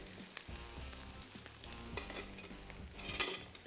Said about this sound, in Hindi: साथ में शामिल करेंगे इसमें लहसुन 1 खाने का चम्मच, और इसकी थोड़ी सी ज़रा होगी भुनाई।